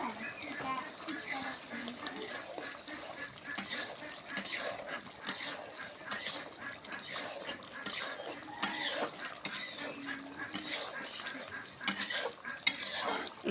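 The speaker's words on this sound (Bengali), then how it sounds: "ঢাকনাটা খুললাম, একটু নাড়াচাড়া দিব।" Goat meat curry being stirred in a pot: continuous scraping and clinking of a utensil against metal over a soft sizzle, close and busy.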